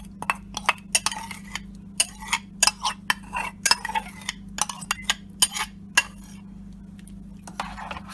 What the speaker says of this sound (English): Stir all that in together